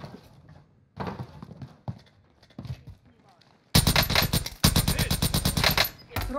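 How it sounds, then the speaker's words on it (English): Nail gun fire in Call of Duty Warzone, Rebirth Island: a long rapid burst of loud, closely spaced mechanical shots after a few scattered earlier pops, with a player talking between them. "That nail gun sounds so weird"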